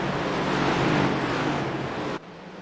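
Race car engines roar loudly and continuously at Phoenix Raceway in a sim-racing Cup Series event, a dense sustained drone that drops abruptly to a quieter hum near the end.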